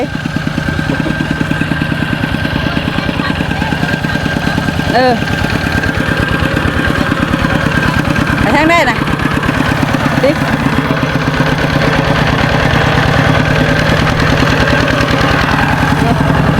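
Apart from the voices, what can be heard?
farm tractor engine running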